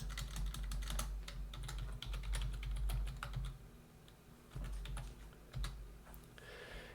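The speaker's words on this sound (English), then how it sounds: "And I can type in my password." Fingers type a password on a computer keyboard, a quick run of close, crisp key clicks with brief pauses between bursts over a low steady hum.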